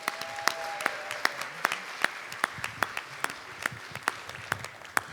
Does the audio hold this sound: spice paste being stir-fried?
no